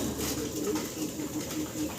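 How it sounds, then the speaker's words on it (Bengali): Soft, repeated cooing of a pair of fancy pigeons close by, a steady murmuring rhythm with faint background noise. "চমৎকার এক পেয়ার কবুতর আপনারা দেখতে পারতেছেন"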